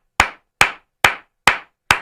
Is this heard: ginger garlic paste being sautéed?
no